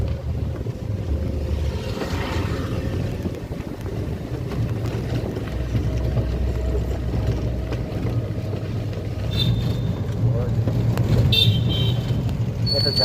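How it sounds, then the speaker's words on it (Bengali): A ship or boat engine drones steadily on the river at Gadiara. The low, continuous rumble is overlaid by wind buffeting the microphone, with faint higher clanks later on. "এটা জাহাজ নাকি?"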